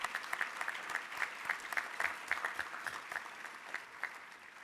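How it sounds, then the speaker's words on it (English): A banquet-hall crowd at an Urban League dinner claps steadily in a dense, even patter of many hands, fairly faint and distant, slowly tapering off near the end. "Let's give them a round of applause."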